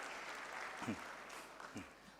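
Audience applause after a presentation at a talk show, faint and distant clapping spread across the clip, with a couple of brief voice sounds poking through.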